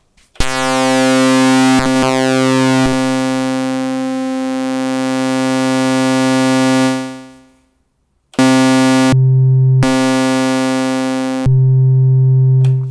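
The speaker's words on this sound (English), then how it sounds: "If we turn this up, it adds a sine wave to the sound." A plain sine tone from an Elektron Syntakt synthesizer holds steady for several seconds, cuts out briefly, then returns in short repeated notes with a slight shift in pitch.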